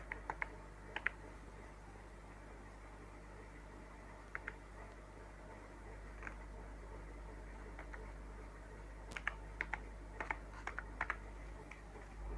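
Sparse, crisp keystrokes on a computer keyboard tap out short clusters of clicks while data is entered into MS Access, heard close and quiet over a low steady hum.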